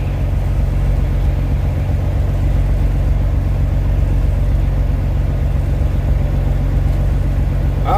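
A 2000 Kenworth W900 truck engine drones steadily while driving on the highway, a loud, continuous low rumble with constant road noise throughout and no pauses.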